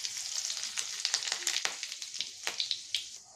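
Cumin seeds hit hot oil in a pan with cooked garlic for a winter garlic curry, crackling and sizzling with bright sharp pops over a steady frying hiss, close and moderately loud.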